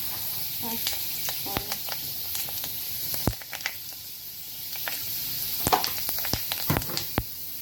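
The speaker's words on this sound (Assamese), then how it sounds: "তেলটো পূৰা গৰম হৈ গৈছে, ইয়াতে মই এতিয়া পাঁচফোৰণ দিম।" Panch phoron spices and dried red chillies sizzle in hot oil in a pan, a steady close crackling hiss with sharper pops and stirring scrapes throughout.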